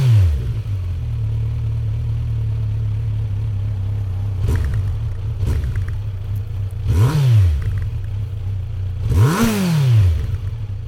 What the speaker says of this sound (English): It's not a full exhaust, unfortunately. It's just a tip, but it's got a really nice sound